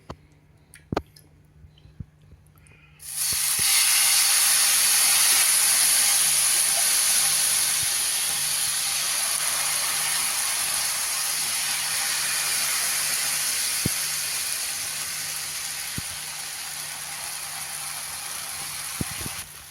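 Jowar-bajra flour dosa batter sizzles loudly on an oiled hot griddle, a sudden bright hiss that bursts in after a quiet start and holds steady, slowly easing, with no talk.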